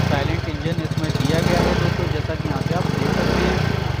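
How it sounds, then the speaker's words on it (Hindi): A 2021 Yamaha Fascino 125 Hybrid scooter engine idles with a steady low putter through its exhaust, heard up close while a person talks over it. "यहाँ से आप इसके एग्जॉस्ट का जो साउंड है वो नोट कर सकते हो"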